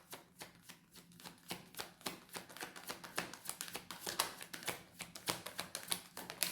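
Tarot cards are shuffled close up in a fast run of crisp riffling slaps and flicks, repeated rhythmically throughout with no voice.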